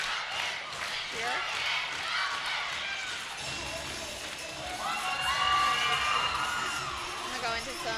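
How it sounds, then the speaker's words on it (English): Crowd at the 2022 ECC cheerleading championship cheers and whoops through a basket-toss routine, a dense roar of many voices that swells louder in the second half, with high shouts standing out from the mass. "Seems like the crowd really likes those tosses."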